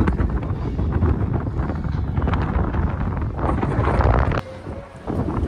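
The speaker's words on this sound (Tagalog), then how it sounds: "Sobrang hangin." Strong wind buffets the microphone on a jetty by the sea in Western Australia, a loud, continuous roaring rumble that eases briefly near the end before gusting again; no talk is heard.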